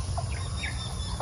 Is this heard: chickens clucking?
yes